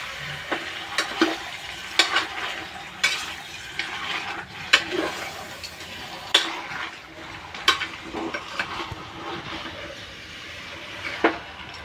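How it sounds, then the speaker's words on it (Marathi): Food sizzles in a pan while a utensil stirs and scrapes it in repeated sharp strokes, with no talking. "आता परतून घेऊया"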